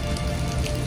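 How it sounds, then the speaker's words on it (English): Heavy rain pours down on a New York City street during a record April rainstorm, a dense, steady rush of drops hitting hard surfaces close by with no let-up. "now it's just downpouring rain, as you can see"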